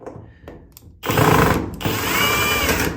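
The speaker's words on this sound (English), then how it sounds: "We will take our power drill" A power drill whirs to life after a brief pause, spinning loudly and steadily for a couple of seconds as it drives in a screw during a GE electric dryer drum glide repair.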